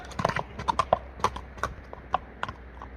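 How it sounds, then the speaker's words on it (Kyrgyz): Racehorse hooves clip-clop in quick irregular beats as the horse approaches at a rural horse race, loud and close with no talk over them. "Мына экинчи номердеги аттагы келатат туугандар"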